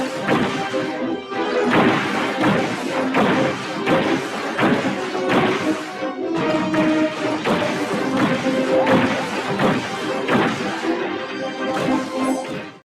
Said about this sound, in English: On the 3rd and last run past cannon fire, they will fire so fast and so often that you won't even hear the level's music.